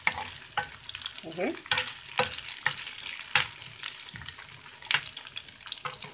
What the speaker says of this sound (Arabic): بحمر البصل اللي انا هحطها على الكشري